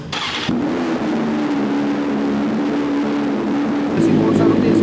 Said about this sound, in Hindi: अब मैं आपको बाइक स्टार्ट करके दिखाता हूँ एक और चीज़।